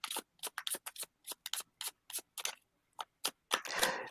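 Playing cards shuffled for a neighborhood board game, a rapid series of crisp riffling bursts with short pauses between them, ending in a longer, denser rush of card noise.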